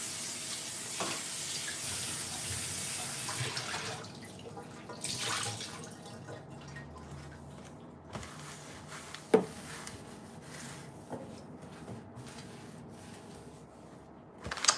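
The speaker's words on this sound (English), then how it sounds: "Wash this off a little bit." Food being rinsed by hand while making eggplant Parmesan, with soft splashing and dripping water under a tap, quiet and intermittent with a few sharper clinks and splashes, no talking.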